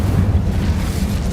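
The Incendio fire spell in Hogwarts Legacy goes off as a brief, deep whooshing boom, a short burst of flame lasting about a second with no talking.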